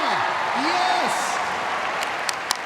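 Audience applause fills a dog agility finals arena, a steady continuous clatter of clapping under a commentator's voice, with a few sharper claps near the end.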